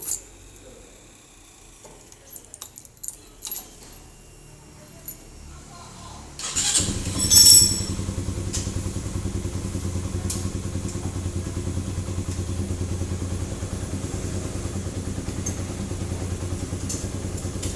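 Motorcycle engine with an ECM fault starting after quiet handling clatter, then idling roughly and unevenly with a steady, slightly lumpy putter close by, voices talking faintly underneath.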